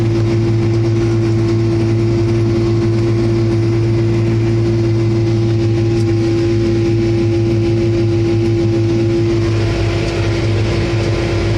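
A tractor engine labours uphill at slow speed while planting a field, giving a steady, loud, low droning hum with constant tone throughout and no talk.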